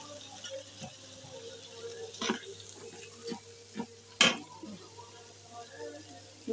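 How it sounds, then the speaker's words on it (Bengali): Onions and green chillies frying in oil for crispy puti fish, a faint, low crackle broken by occasional sharp clinks and scrapes of stirring. "পেঁয়াজগুলাকে এইভাবে কেটে আপনারা তেলের মধ্যে ভেজে মচমচে করে"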